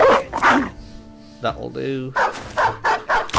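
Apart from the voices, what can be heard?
dogs barking in Battle Brothers video game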